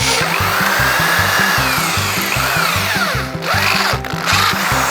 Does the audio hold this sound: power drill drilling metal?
yes